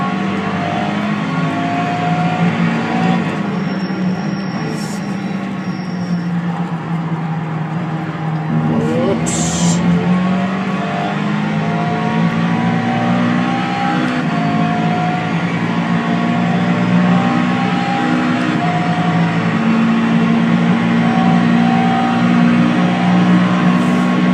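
Car engine from a racing video game played on a budget DIY racing cockpit, a steady droning hum with rising and falling pitch as the car accelerates and shifts, continuous and fairly loud throughout with a brief thump partway.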